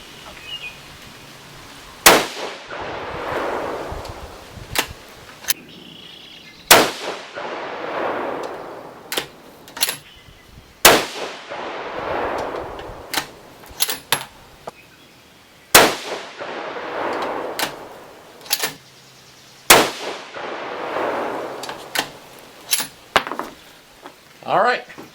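Savage 110 Tactical rifle in 6.5 Creedmoor firing 123-grain BTHP loads over H4350, a five-shot group of sharp, loud reports spaced several seconds apart, each cracking then trailing off into outdoor quiet.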